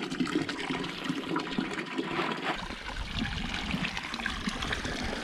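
Water runs steadily from a hose in a horse stable, a continuous trickling stream close by with no talk over it.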